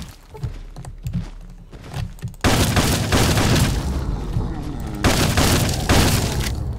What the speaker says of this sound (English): this is a situation for shotgun. And I'm just gonna blast the god out of everything.